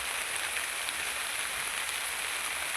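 Steady rain falls at a backwater farmhouse in Cheruvally, Alappuzha, among coconut palms and small lakeside houses, a soft continuous hiss without breaks and with no voices.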